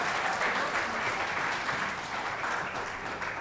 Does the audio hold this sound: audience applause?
yes